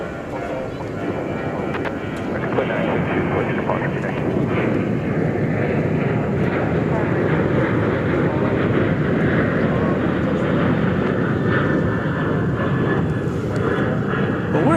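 An Alaska jet airliner taking off from runway 36 right at DFW Airport roars loudly and steadily, a broad engine rumble that holds strong through the whole stretch with no talk over it.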